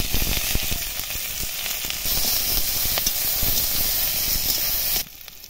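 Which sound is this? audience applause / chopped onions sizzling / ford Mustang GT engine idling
chopped onions sizzling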